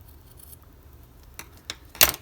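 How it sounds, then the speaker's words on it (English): Scissors snip a bookmark tassel's threads: a soft cut, a second crisper one, then a loud close snip, all in a quiet room. "Let me trim that just a little bit."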